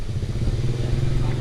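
A moped on an Indonesian island idles and putters close by, a steady, loud low engine chug with a slight rattle over the brief moment.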